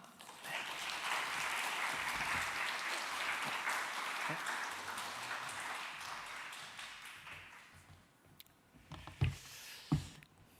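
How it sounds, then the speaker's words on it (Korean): A young adult congregation gives warm welcoming applause to a visiting pastor at a church service, a loud sustained wash of clapping that fades after several seconds, followed by a few scattered sharp taps. "우리 청년 여러분 환영의 뜨거운 박수를 부탁드리겠습니다"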